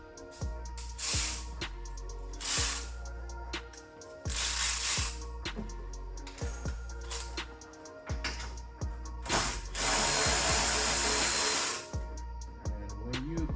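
Pneumatic impact gun working on coilover bolts of an Infiniti G37, with repeated loud close bursts of rattling hammering and air hiss, several short runs and one longer sustained burst, with no talking.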